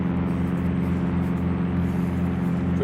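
A steady, loud droning hum of an aircraft engine, heard from outside the plane in the flight simulator X-Plane 11, constant and unbroken for the whole stretch.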